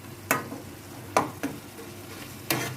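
Spices for tadka dal sauté in a pan: a few sharp scraping stir strokes over a faint, steady sizzle, close and moderately loud, with no talking.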